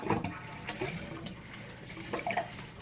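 Water siphons out of a betta fish tank during cleaning, a soft trickling and gurgling flow with faint splashes that runs steadily at close range.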